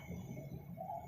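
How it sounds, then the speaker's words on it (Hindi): Soft bird calls with cooing tones from birds in a tree, over a steady low outdoor hum, fairly quiet and continuous. "पक्षी पेड़ पर चहचहा रहे थे"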